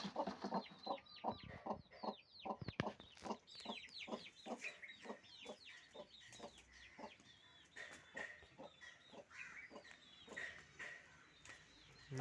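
Chickens kept in a small room at an old house cluck in a steady run of short, repeated calls, close and fairly faint, with no voices over them.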